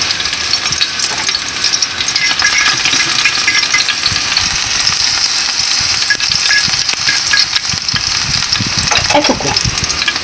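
Parsley and chili pepper fry in a pan for spaghetti with mussels, giving a loud, close, continuous sizzle with crackling and occasional scrapes of stirring.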